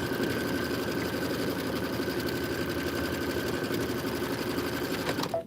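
A sewing machine stitches steadily while piecing fabric with a straight stitch needle plate, a fast even whir with a rapid needle rhythm running close and loud for several seconds before stopping abruptly at the end.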